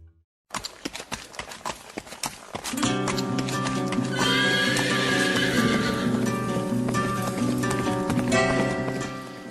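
Horses trot with steady clip-clopping hooves and neigh loudly near the start, then a dense, continuous herd sound with repeated whinnies, set among mules and horses on a mountain mule-train trail.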